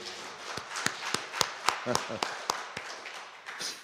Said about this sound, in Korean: 힘내라고 축복하는 마음으로 박수 한번 합시다.